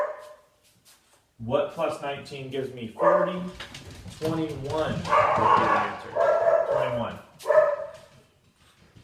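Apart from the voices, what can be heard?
dogs barking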